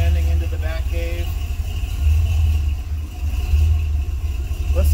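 Early Ford Bronco with a new bumper rumbles at low speed as it pulls into a garage, a steady idle with brief revs and a voice talking over it.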